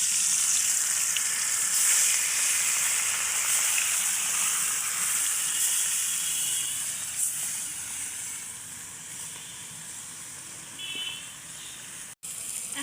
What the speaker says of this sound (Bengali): তেলগুলো গরম হয়েছে, এখন হচ্ছে মাছগুলো দিয়ে দেবো।